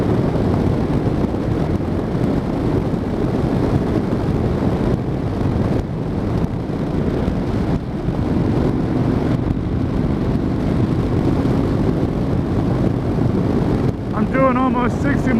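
A 2013 Honda NC700X motorcycle cruises at about 60 mph on a highway, its engine a low steady drone under heavy rushing wind noise from close up, with no clear talking.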